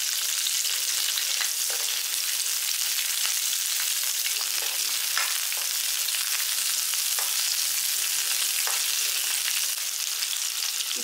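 Small onions and curry leaves fry in hot oil for onion chutney, giving a constant dense sizzle with occasional soft stirring clicks, close and uninterrupted by speech.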